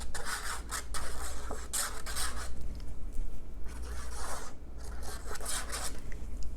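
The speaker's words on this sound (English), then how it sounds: "I'm just gonna put some adhesive on the panels" Adhesive is spread across card panels for a suitcase-style box card, giving a steady, close rasping rub with repeated scratchy strokes and brief pauses, with no talking.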